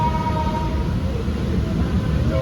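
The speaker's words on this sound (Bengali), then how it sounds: "ট্রেন এখন ছেড়ে দিয়েছে" A train pulling out of a station gives a steady, loud low rumble with faint tonal hums, heard continuously from close by, as if from on board, with no clear voices.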